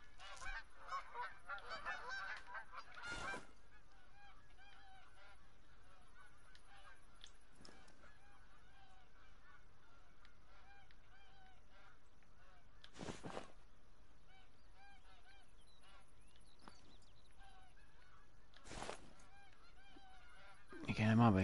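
Canada geese honk in The Hunter: Call of the Wild, a distant, faint chorus of repeated calls running through the whole stretch, loudest near the start, with occasional clicks and rustles over it.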